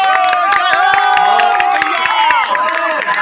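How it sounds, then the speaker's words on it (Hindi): A crowd at a Durga Puja children's worship gathering in Prempur, Gudariganj, cheers and claps loudly and continuously, with shouting voices and whoops riding over steady clapping throughout. "इन नन्हे भगवान के लिए एक जोरदार ताली बजा दीजिए आप सब।"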